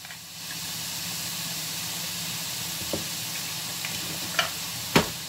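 Alexandrian-style liver with black pepper fries in a pan with a continuous sizzling hiss and a few sharp pops and clicks near the end, with no talking.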